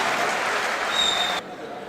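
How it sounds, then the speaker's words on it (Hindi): Loud applause fills a university poetry gathering, dense continuous clapping from the audience that cuts off sharply near the end. "एक बार जोरदार तालियां आमंत्रित करें"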